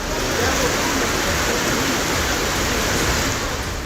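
Fast-flowing floodwater rushing after a cloudburst in Kupwara's Lolab valley, northern Kashmir, a loud, steady, broadband roar of churning water that fills the scene continuously without pause.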